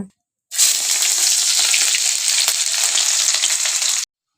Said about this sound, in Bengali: এখানে পেঁয়াজ রসুনটা যেটা আছে অর্ধেকটা ভেজে নিব